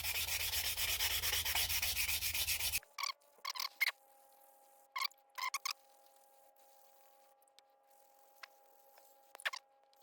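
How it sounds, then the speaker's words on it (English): Wet sanding the clear coat on a large painted pelagic fishing lure: steady, loud abrasive rubbing for about three seconds, then stopping, followed by scattered faint clicks and handling taps over a quiet hum. "I'm just going to wet sand it a bit"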